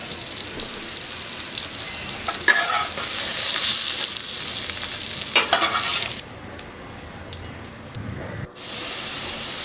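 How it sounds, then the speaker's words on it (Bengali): Potatoes fry in oil in a kadai with a close, steady sizzle and stirring scrapes, swelling louder midway before briefly dropping off and then resuming. "আলুটাও আমি লাল লাল করে ভেজে নিলাম।"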